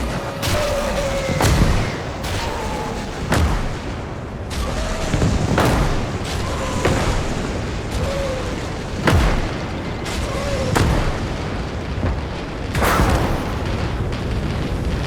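Tanks being destroyed and artillery fire in the WWII strategy game Call to Arms - Gates of Hell: Ostfront, with loud, deep explosions and booms going off repeatedly every second or two over a constant rumbling battlefield din.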